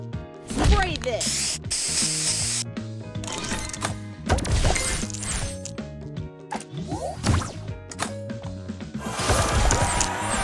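Spray booster effect in a match-three puzzle game, hissing bursts repeating several times amid game music, chimes and crashing effects, with a game voice announcing moves over it.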